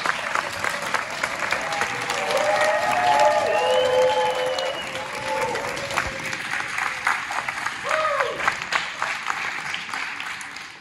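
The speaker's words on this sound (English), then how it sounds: "Can I have you please stand so we can all give you a round of applause and congratulate you." An audience at an award ceremony applauds a student honoree with sustained, even clapping that swells and then slowly thins out, with brief faint voices in the background.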